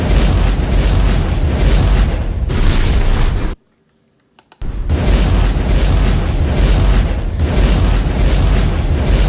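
Layered cinematic fireball effects for a firebending After Effects edit roar in repeated loud, dense bursts with deep rumble and crackle, broken midway by about a second of near silence before the fiery blasts resume and continue to the end.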